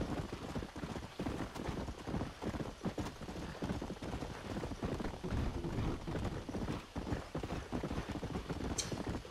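Horse hooves clip-clop steadily in Red Dead Redemption as a gray horse is ridden around, with a continuous rhythmic plodding over a dense, noisy game ambience.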